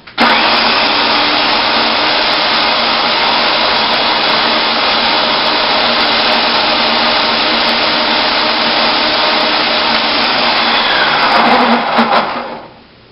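A blender runs on high, whirring loud and steady for several seconds as it purees soaked cashews into a creamy ranch dressing, then winds down at the end.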